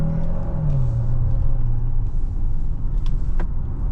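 A 2025 Hyundai Santa Fe Hybrid cruising on a road, with a steady low rumble of engine and road noise from inside the cabin and a brief tonal rise early on, continuous and fairly loud throughout.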